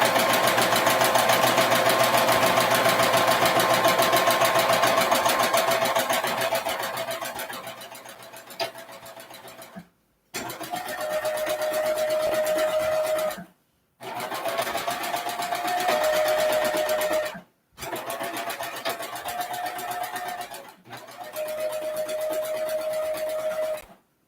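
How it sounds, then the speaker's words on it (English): A cover stitch sewing machine top stitching the back of a garment, running in long continuous bursts of fast whirring hum with a steady motor tone, broken by short pauses, close and loud. "now I'm at my cover stitch machine and we're top stitching"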